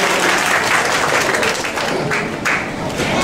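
Sustained applause from a large audience at a wedding fills the whole stretch, a dense, steady wash of clapping that stays loud throughout.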